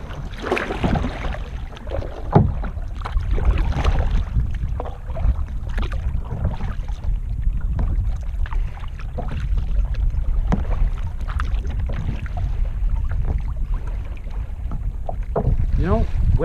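Kayak paddling on open water, with repeated splashes and sloshing strokes under heavy wind buffeting on the microphone. The sound stays close and fairly loud throughout.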